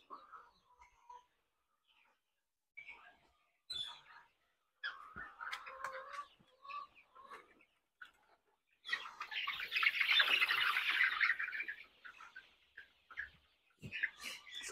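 Young male chickens, 44 days old, in their coop early in the morning, with scattered squawks and chirps followed by a denser burst of calling, moderately near.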